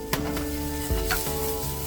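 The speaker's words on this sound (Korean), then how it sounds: "양파채도 볶아줍니다." Julienned onion stir-fried for japchae in a frying pan: a steady sizzle with a spatula scraping and tossing the strips, close and alone.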